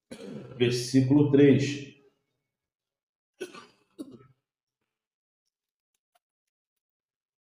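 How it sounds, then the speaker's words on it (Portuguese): A man with a recurring cough, speaking Portuguese, talks briefly and then gives two short, dry coughs close to the microphone, followed by silence. "De um tempo para cá, eu tô com essa tosse de novo"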